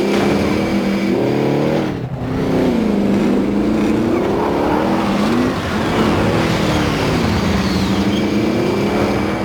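A car engine in a military shooter video game drones loudly and steadily, its pitch sliding up and down as the vehicle is driven.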